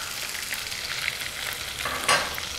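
Ground onion paste sautéing in a pan with dried chillies and curry leaves for Madras fish curry, a steady close sizzle with a brief louder stir or scrape near the end, no talk.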